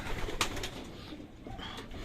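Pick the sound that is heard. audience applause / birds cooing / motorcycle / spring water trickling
birds cooing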